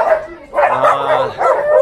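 Dogs barking at a dog farm in Attur, Salem: several loud, close barks and yips in quick bursts with brief whimpering between them, and no talking.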